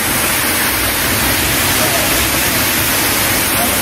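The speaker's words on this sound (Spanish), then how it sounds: "llegamos lo más cerca posible de la cascada" Waterfall at Rock City Gardens heard up close as a loud, dense, steady roar of rushing water filling the whole clip without a break.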